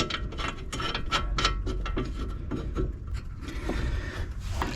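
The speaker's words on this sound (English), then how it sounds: "I'm tightening these to 110 Newton meters" A ratchet tightens the front brake caliper carrier bolts on a 1998/1999 BMW. It gives close, rapid, rhythmic clicking in repeated strokes, with no talk.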